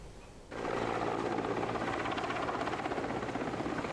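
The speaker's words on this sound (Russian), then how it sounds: "Спасатели отрабатывают десантирование с вертолета Ми-8" A Mi-8 helicopter runs steadily and loudly overhead during rescue landing drills, its engine and rotor roar starting abruptly and holding as a constant, dense drone with a faint rhythmic rotor pulse.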